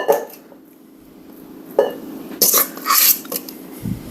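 A scoop knocks and scrapes against a bowl while sausage and cream cheese mixture is portioned onto biscuit dough, giving a few close clatters and a brief metallic ring.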